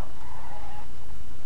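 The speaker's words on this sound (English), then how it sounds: "what the fuck is that sound coming from my engine?" A damaged car engine in the Street Legal Racing Redline racing game, heard as a loud, continuous strained mechanical whine with a rough low rumble underneath, ending as the engine shuts off.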